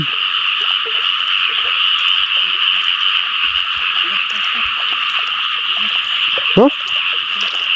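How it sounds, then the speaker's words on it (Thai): Frogs croak in a dense, continuous chorus across a rice field at night, steady and loud, with one brief nearby splash or thump near the end. "กบนะ"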